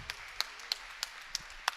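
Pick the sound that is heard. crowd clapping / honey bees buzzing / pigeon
crowd clapping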